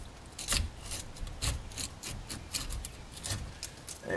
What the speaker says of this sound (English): this portion of the brake caliper is now free. You just got to wiggle it off.